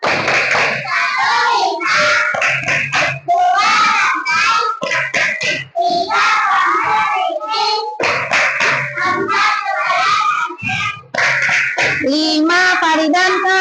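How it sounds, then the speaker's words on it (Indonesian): A group of children performs the Tepuk Pancasila clap chant, rhythmic bursts of hand claps mixed with loud chanted voices, close and energetic throughout. "Kita coba lagi, tepuk Pancasila."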